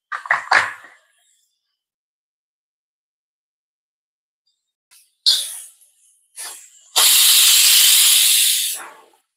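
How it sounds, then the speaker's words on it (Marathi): A pressure cooker of Malvani mutton lets out short hissing puffs of steam, then after a quiet gap a long, loud whistling blast of steam that lasts about two seconds and stops abruptly. No one speaks. "कुकरच्या शिट्या झालेल्या आहेत, 3 शिट्या झाल्या."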